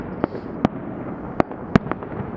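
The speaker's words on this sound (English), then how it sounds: "Apparently, they have fireworks every Saturday night." Saturday night fireworks explode over Sydney Harbour in a handful of crisp, separate cracks at irregular intervals, heard at a moderate distance over steady ambient noise.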